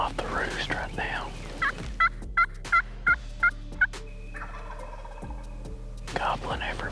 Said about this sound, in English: sounds like about 4 birds that are gobbling right over this little ridge in the trees